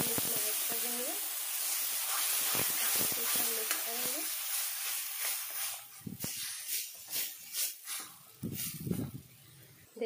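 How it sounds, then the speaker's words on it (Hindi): Ground tomato goes into frying ginger, garlic and onion in a pan for rajma, setting off a loud sizzle that fades into softer, uneven hissing and stirring, with a voice talking over the start. "अदरक और लहसुन प्याज अच्छे से हो गया है, इसमें हम टमाटर जो पीस करके रखा है हम इसमें ऐड कर देंगे।"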